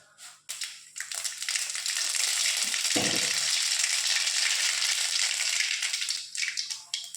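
Mustard seeds frying in hot oil for an okra buttermilk curry, a loud continuous crackling sizzle that bursts in after a couple of seconds, with a brief rattling clatter midway, and fades slightly toward the end.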